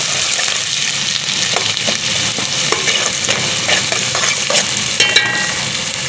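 Chopped onion frying in a pan for an egg yogurt masala, with a loud, continuous sizzle, scraping stirs and a few sharp spatters near the end.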